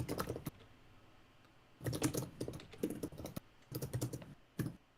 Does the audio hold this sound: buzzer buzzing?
no